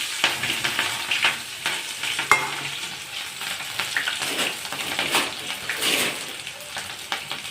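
Tempering spices sizzle and crackle in hot oil in a pan, a busy close-up frying hiss with spoon stirring and occasional clinks, no talk.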